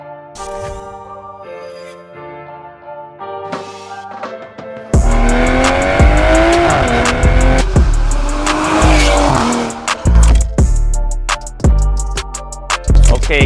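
Toyota Supra GR with a 3.0 B58 engine, Veleno Performance exhaust, FEMTO-unlocked ECU, boot mod 3 and custom tune: a steady tonal drone for a few seconds, then a loud, rough surge of engine and exhaust noise with sharp bursts and possible tire squeal.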